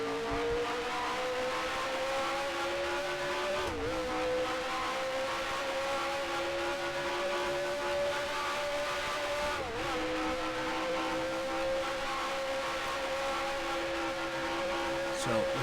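Race car engine from the Grand Prix Legends racing sim, a default Brabham in a 1976 mod, drones at steady high revs with brief dips near 4 and 10 seconds, loud and continuous.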